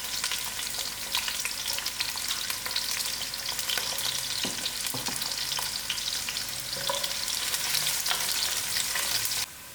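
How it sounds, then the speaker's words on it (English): Onions sizzling steadily in a hot pan for an Indian soya and dhal dish, a continuous close crackling fry with occasional stirring scrapes and no talking. "I put in my onions and allow this to get a little red."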